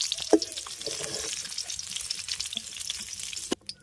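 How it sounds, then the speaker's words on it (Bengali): Koi fish frying in hot oil makes a close, crackling sizzle with scattered pops and the clatter of turning or lifting the pieces, ending in a sharp knock. "এদিকে আমাদের মাছগুলোও ভাজা হয়ে গেছে এবার এগুলো তুলে নেব"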